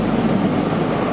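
A passenger train pulls into a station with a steady, loud rumbling roar of wheels and carriages, continuous and close throughout with no voices.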